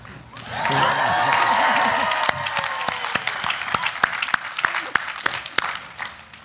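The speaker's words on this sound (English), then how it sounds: "I have a feeling you wouldn't mind giving yourselves yet again another cheer" Graduates at a 2017 Notre Dame de Namur University commencement cheer and clap: a swell of whoops and shouts fades into scattered, distinct individual claps.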